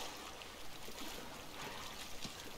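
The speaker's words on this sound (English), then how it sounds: "now I'm in the water having to swim" Water sloshes and rushes steadily as a character swims in the pirate video game Sea of Thieves, a continuous soft, broadband wash with no voices.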